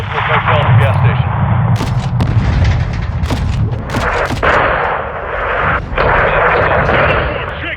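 Heavy gunfire and booming blasts from a Modern Warfare II campaign firefight against cartel fighters at a gas station, loud and continuous with sharp shots cracking over a low rumble, while radio voices talk over it.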